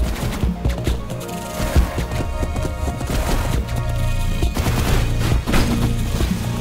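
Mines explode during a boss battle in Hyper Light Drifter, a dense run of sharp popping blasts and clattering hits over busy game music.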